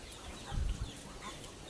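Muscovy ducks in a large flock with many drakes, kept on a raised floor on a farm; a few low, brief calls stand out against quiet background shuffling and chatter from the birds.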